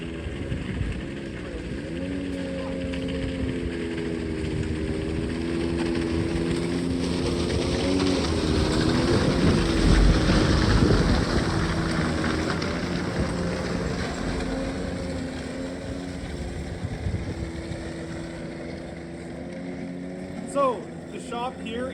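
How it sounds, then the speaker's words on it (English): Several snowmobile engines drone past, swelling to a loud roar midway and fading, with gritty scraping of studded skis grinding the road under the engine noise. "there's some snowmobiles going by"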